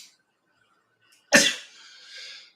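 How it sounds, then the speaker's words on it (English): A single loud, sharp sneeze bursts out after near silence, followed by a brief trailing breathy exhale. "I'm just always sneezing here during springtime"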